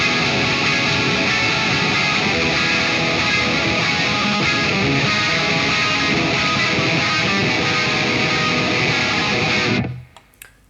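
Distorted electric guitar strings ring out together in a dense, noisy, dissonant wash that sustains steadily, then is cut off abruptly at the end.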